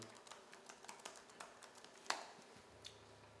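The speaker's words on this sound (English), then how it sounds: "we're going to go ahead and type in a new page" Keys on a computer keyboard are tapped in a quiet, irregular run of soft clicks, with one sharper clack midway, close and alone.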